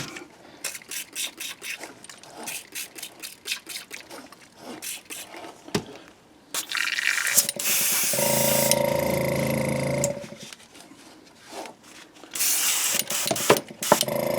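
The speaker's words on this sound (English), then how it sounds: "let me clean out the airbrush here" An airbrush being cleaned out after painting a shad wakebait lure gives bursts of loud hissing spray, broken by quieter handling clicks and taps between them.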